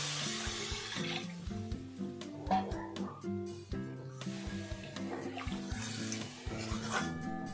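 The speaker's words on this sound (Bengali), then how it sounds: "এবার এর মধ্যে জল দিয়ে দেবো আমি।" Water is poured into a fried spice mixture for a vegetarian soybean curry, splashing and sizzling in uneven bursts for several seconds with clattering in the pan.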